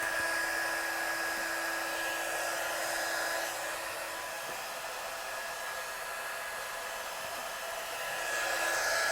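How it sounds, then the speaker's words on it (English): A heat gun blows a steady, even whirring hiss while heat-setting embossing powder on card, constant and close with a slight dip partway through, with no talking. "So I'm just going to heat set this. So I'm going to get my gun hot before I pop it on my work."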